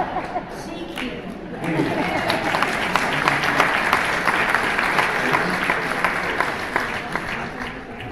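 A wedding ceremony audience breaks into sustained applause, loud and close, with many hands clapping steadily and some chatter mixed through it for several seconds.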